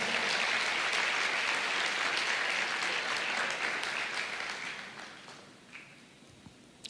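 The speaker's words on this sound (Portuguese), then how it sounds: "Em nome de Jesus, pode aplaudir ao Senhor." Sustained applause from a church congregation, loud and dense at first, then gradually thinning and fading out toward the end, with a few scattered claps remaining.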